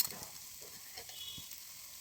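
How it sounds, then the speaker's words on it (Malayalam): Frying beef sizzling in a pan after a tablespoon of homemade ghee is added, a faint steady hiss with a few soft stirring scrapes and no voices. "ഇനി 1 ടേബിൾ സ്പൂൺ നെയ്യ് ഒഴിക്കുക ഇതിലേക്ക്."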